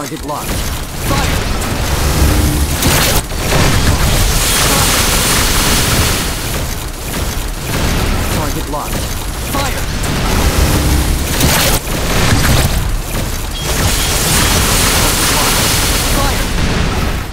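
Sniper skill effects of the Xenon class in a Nexon video game: a dense, continuous barrage of loud booms, blasts and mechanical bursts, with a voice talking over the action.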